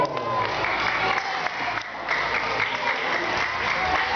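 An audience at an awards ceremony claps together in a steady, moderately loud burst, with some crowd noise mixed in and no clear talk.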